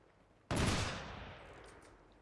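A single sharp burst of machine gun fire from a machine gun crew in the strategy game Company of Heroes 2 hits suddenly and loud, then decays into a lingering rumble and rattle with no voices.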